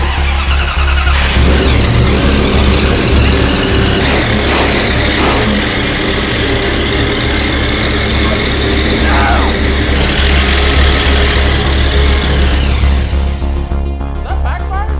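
A supercharged 1968 Dodge Charger engine cranks and fires up, then revs loudly in repeated surges before settling, close by, with people talking faintly underneath.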